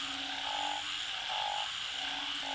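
Frogs and toads call after rain, a repeated croaking chorus with pulsing calls at regular intervals over a constant background of trilling, moderately near.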